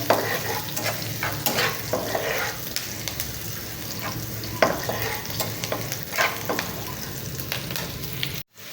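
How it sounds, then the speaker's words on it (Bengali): Onion and green chili frying in oil in a pan for a bitter gourd dish, with a steady sizzle and repeated scraping stirs of a utensil, close and fairly loud, no talking, ending abruptly. "পেঁয়াজ কাঁচা মরিচ এখানে ভাজা হয়ে গেছে একটু"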